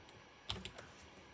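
Computer keyboard keys clicked during a Roblox game, a few quick close taps in a short burst, one sharp press followed by two lighter ones.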